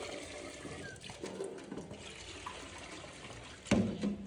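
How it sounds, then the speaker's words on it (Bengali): Rice is rinsed and swished with water, faint irregular sloshing and trickling with a louder splash near the end. "চাল ধোয়া হচ্ছে"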